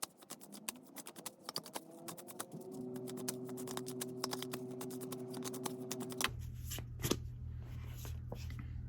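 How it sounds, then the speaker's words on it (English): Tarot cards being shuffled close up, rapid riffling flicks and taps, with a low steady hum joining partway through. "now I'm going to shuffle these cards"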